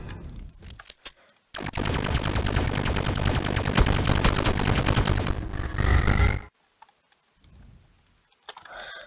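Gun reload sound from the Roblox FPS kit in a video game plays as a loud, continuous mechanical burst of about five seconds, dense and rattling, after brief clicks and before quieter scattered noises.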